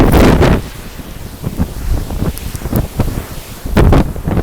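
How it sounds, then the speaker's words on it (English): Hurricane Florence's eyewall winds batter Wilmington, with loud gusts buffeting the microphone in heavy rumbling bursts over a constant roar, surging strongly at the start and again near the end. "the eye wall of Hurricane Florence is finally here after we waited all night"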